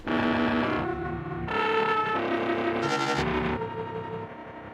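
Resampled synth sound from the Portal plugin in a drum and bass production: a loud, processed, textured tone in shifting bursts with a short noisy swell near the middle.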